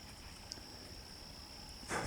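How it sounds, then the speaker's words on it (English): Crickets chirp steadily near a lake shore among trees still in leaf, a faint, continuous high trill running throughout, with a brief louder rustle near the end. "We still got crickets going"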